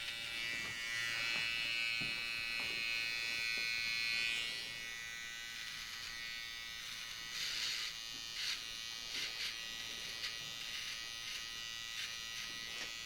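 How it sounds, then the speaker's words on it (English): Electric hair clipper buzzing steadily while fading and sculpting a beard, loud and close for the first few seconds, then quieter with short bursts and pauses as it passes over the hair. "the clipper takes off the hair in a more efficient way and it's cleaner"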